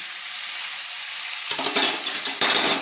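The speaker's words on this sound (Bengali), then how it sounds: "ভালো করে নেড়ে নিচ্ছি।" Chopped onion frying in a pan, a bright continuous sizzle joined by a few scraping stirring strokes and light utensil knocks, close up with no voices.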